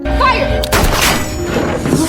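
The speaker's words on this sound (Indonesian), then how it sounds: "ketika pistol ditembakkan, sayangnya meleset" A single pistol shot cracks out in a film scene, a loud close burst followed by a brief rumbling tail and faint background sound.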